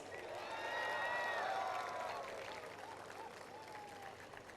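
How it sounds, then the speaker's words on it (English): An audience at SPJIMR's 2022 annual convocation ceremony breaks into loud, sustained applause mixed with whoops and cheers. The clapping peaks early, then gradually thins out, with scattered voices audible over the crowd. "Let's have a big round of applause."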